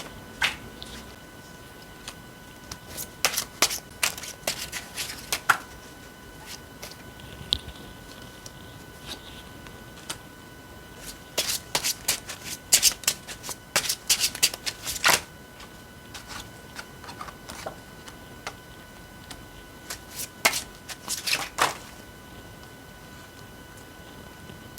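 Tarot cards are shuffled and handled in several clustered bursts of quick, papery riffling and tapping, close and fairly quiet, separated by pauses of near silence.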